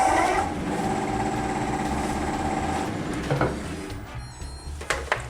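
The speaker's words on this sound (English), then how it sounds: "I've re-honed my 3/8 inch bowl gouge, and I'm going to be turning it at 1000 RPM" A wood lathe spins a chokecherry bowl at 1000 RPM while a 3/8 inch bowl gouge cuts it, giving a steady close whirring drone that thins out near the end into scattered knocks.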